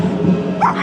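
Dog barking on a Ho Chi Minh City street in the morning, a single short close bark over steady street background.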